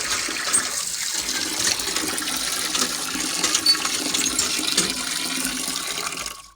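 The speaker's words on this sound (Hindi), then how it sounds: "तो अभी ये जो है ना हमारे चावल हो रहे हैं वॉश।" Tap water runs steadily into a pot as rice is rinsed in a village kitchen, a continuous close splashing hiss that stops abruptly at the end, with no talking.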